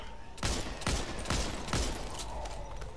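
Rapid bursts of gunfire in the co-op zombie shooter Back 4 Blood, four loud sharp volleys spaced about half a second apart over a steady game background with faint voices.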